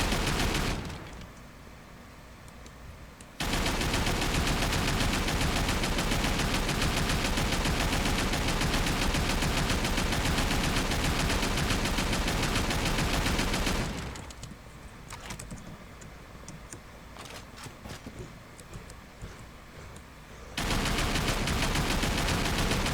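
Gunshots fired at a parasite in The Withering come as a dense, loud wall of rapid firing in two long sustained stretches, separated by quieter, busier passages, with no voices present.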